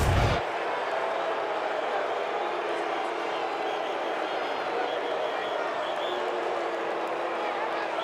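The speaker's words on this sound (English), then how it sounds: "Well, the crowd in full throat" A stadium crowd at a college football game roars and boos steadily in a loud, sustained wash of noise after a holding flag against the corner, continuing without a break for the whole stretch.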